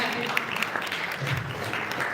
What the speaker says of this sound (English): Shall we have a round of applause for this price as well?